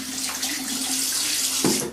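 Steady running water from a tap during a head wash after shaving, a continuous close splashing hiss with a brief louder splash near the end.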